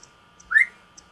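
A caged pet bird lets out a single short, rising whistle, clear and close, against a quiet background with a few faint ticks.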